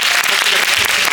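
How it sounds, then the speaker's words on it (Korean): An audience breaks into steady, close clapping at a film guest-visit talk event, a dense wash of applause filling the short moment. "큰 박수 부탁드립니다"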